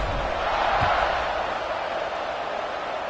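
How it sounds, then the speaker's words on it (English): A stadium crowd in the NCAA 26 college football video game keeps up a steady, dense buzz of cheering and chatter, holding an even loudness for the whole stretch. "this crowd is buzzing after that last score"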